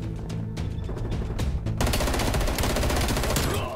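Sustained automatic gunfire from a rifle in Call of Duty: Black Ops Cold War, scattered shots at first, then a dense, loud burst of rapid fire that carries on to the end.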